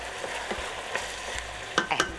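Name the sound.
peppers frying in a pan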